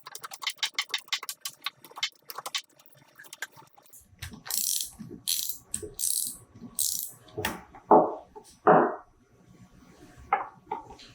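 A socket ratchet clicks rapidly while removing the fastener that holds the drive wheel on a Malco metal roofing seamer, a run of quick ratcheting ticks followed by slower, louder bursts of turning and mechanical clatter.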